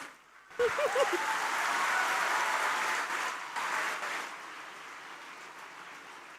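An audience at a first-year engineering college inauguration breaks into sustained applause that swells, holds for a few seconds and tapers off, with a brief voice at the start.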